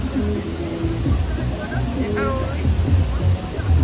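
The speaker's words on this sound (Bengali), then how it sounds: "বিশাল উঁচু থেকে জলটা পড়ছে।" Jang Falls in Arunachal, water plunging from a great height, heard as a continuous broad roar with people talking nearby over the rushing water.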